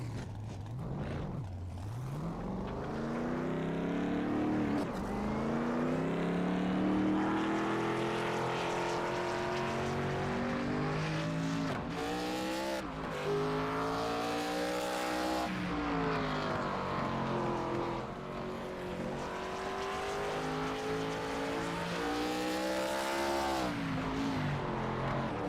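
Pro Cup Series race cars running qualifying laps, their engines droning loud and continuous, with pitch repeatedly climbing and falling as they accelerate, shift and sweep past.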